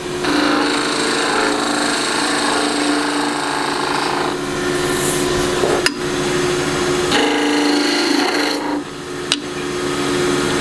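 A gouge cutting a wooden mallet spinning on a lathe, a close rasping scrape with steady hum of the machine, the cut lifting off briefly twice with sharp clicks between passes.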